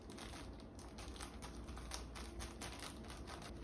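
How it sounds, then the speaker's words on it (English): Scissors snip through a plastic sous vide bag holding egg yolks cooked in a water bath, a steady close crinkling and rustling run of short cuts with no voices. "I'm gonna cut the bag open"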